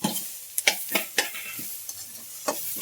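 Onion frying in a pan on a home stove, a soft steady sizzle broken by sharp scraping strokes of a spoon as it is stirred, several quick stirs close to the microphone.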